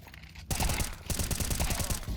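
Rapid automatic gunfire in a video game match, after a short quieter lead-in, a loud close burst of rapid rattling shots that keeps on going steadily to the end.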